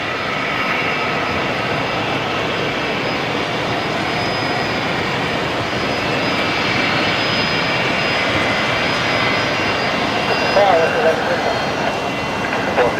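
A jet airliner taxiing at Brisbane Airport at sunset, a loud steady engine roar and whine that swells slightly toward the end, with a person talking over it.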